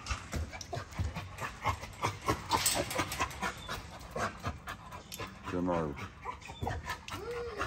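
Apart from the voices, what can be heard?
puppies panting and whimpering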